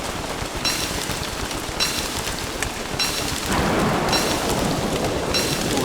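A thunderstorm with lightning in the video game Don't Starve: steady heavy rain throughout, a low rumble of thunder swelling in the second half, and no talking.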